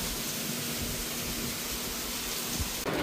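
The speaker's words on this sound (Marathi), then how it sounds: "पाऊस जोरात आलेला आहे, एकदम जोरात चालू आहे पाऊस" Heavy rain pours steadily in a dense, even hiss from a car in a downpour, loud and unbroken, with a faint low hum beneath and no voices.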